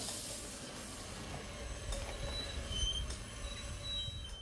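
A miniature railway train runs on a 3.5-inch and 5-inch gauge track at a model engineering club in a park, with faint steady rolling, wheel squeals and metallic clicks, somewhat distant and without talk.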